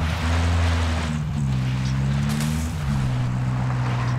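A vehicle engine drones in a match of the video game DMZ, steady and fairly loud with rising and falling pitch as it drives, heard alone without talk.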